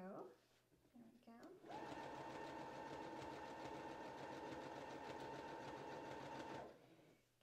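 Sewing machine stitching a dress seam over the seam allowance, a steady fast mechanical whir that runs continuously for about five seconds after brief starts, with a voice talking before it begins.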